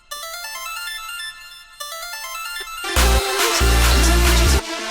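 Synth plugin in an Ableton heavy dubstep production plays bright, bell-like sustained tones, then a loud, dense full mix with heavy bass cuts in for the second half before dropping out near the end.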